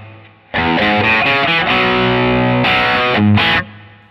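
Electric guitar run through a Line 6 Helix modeler, sounding distorted with effects as sustained chords ring out loudly and close, with a brief break near the end before a final strum, and no talking.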